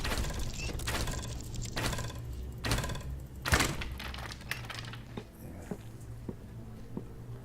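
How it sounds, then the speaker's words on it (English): Repeated heavy mechanical bangs and clanks of a monster battering at a door in the video game Barony, fading into lighter scattered knocks. "you can actually hear something fighting right now or shooting at a door"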